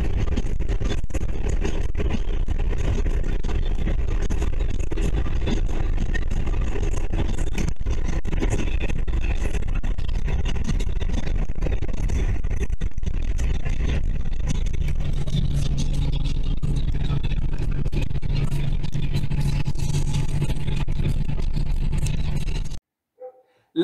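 A car engine drones loudly and continuously, climbing toward high speed with wind and road roar, then cuts off abruptly at the end.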